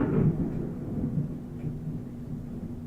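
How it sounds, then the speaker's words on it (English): Thunder during a December rainstorm opens with a low crack and rolls on as a dull rumble beneath steady rain, fairly muffled as if heard from indoors. "nice crack of thunder right at that moment"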